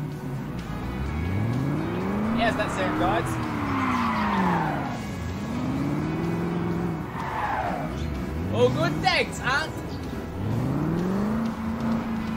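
Car engine in Construction Simulator, revving up and down in repeated rising and falling sweeps with tire skids and squeals, while people talk over it.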